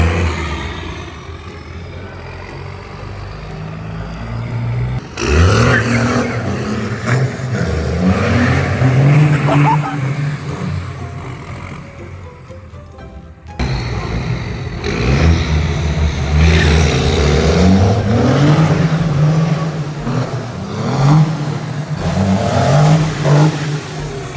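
A diesel truck engine revs hard and repeatedly while drifting, surging and dropping in pitch, loud and close, with a pause between two long bursts.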